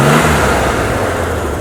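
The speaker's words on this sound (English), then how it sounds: "Why don't you go ahead and rev it a little bit." A 1963 Chevrolet Corvair Monza 900 engine revs briefly up close, a steady mid-pitched engine roar with a throttle blip at the start, no talking.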